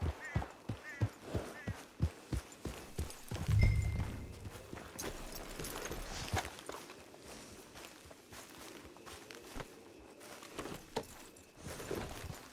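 Horse hooves clip-clop at a steady walking rhythm in Red Dead Redemption 2, close and distinct, with a brief low rumble partway through and the footfalls continuing to the end.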